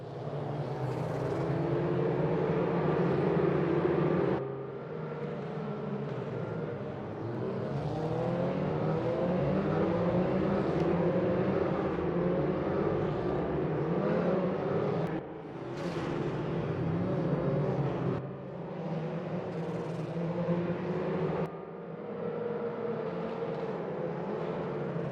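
Porsche 944 Cup race cars battling on the Pau street circuit in the Raceroom racing game, engines droning and revving continuously with rising and falling pitch and brief drops at gear changes, loud and unbroken throughout.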